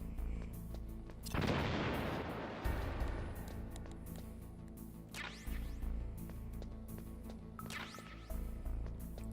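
A stun grenade goes off in Metal Gear Solid with a loud, close burst and noisy blast that decays over a couple of seconds, followed by sharper game effects and lingering tones, with no talking.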